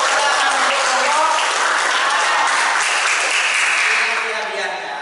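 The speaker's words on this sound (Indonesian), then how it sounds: "Tepuk tangan untuk kelompok." Applause from a classroom of students greeting a student group after a presentation, a dense, steady wash of many hands clapping close by for about five seconds, with chatter mixed in and the clapping thinning slightly at the end.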